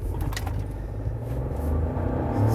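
A Chevrolet Montana 1.2 turbo three-cylinder pickup accelerates, its engine giving a steady, fairly close rumbling drone that swells slightly toward the end, with no talk.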